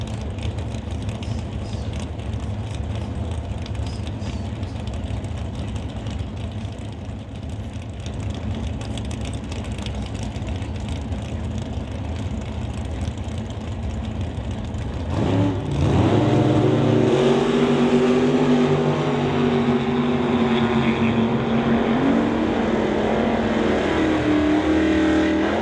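A green Plymouth Cuda and a Camaro line up at a drag racing test session: low engine rumble and revving build, then a loud launch roar bursts in partway through and holds steady, close and powerful.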